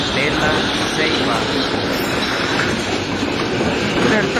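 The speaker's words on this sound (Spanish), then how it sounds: "El tren de San Pedro Sula, que se desplaza durante la Feria Juniana de la estación del ferrocarril a Expocentro y a Gran Terminal." Train on the Honduras national railway running in San Pedro Sula between the railway station, Expocentro and Gran Terminal during the June fair; steady close rumble with clattering wheels throughout, continuous and loud.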